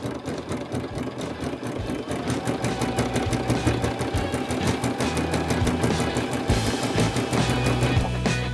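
A sewing machine fitted with a ruffling foot gathers fabric into a ruffle, running with a fast, even mechanical chatter and steady stitching pulses throughout, close and fairly loud.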